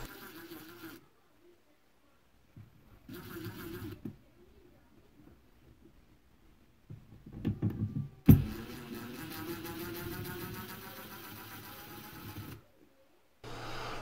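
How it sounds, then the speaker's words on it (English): Screws are taken out of the plastic housing of an analog home heating thermostat, with short whirring bursts, then a longer steady whir after a sharp click, all fairly quiet and close, with no talking. "we're going to go ahead and take those screws out now and loosen it up all the way."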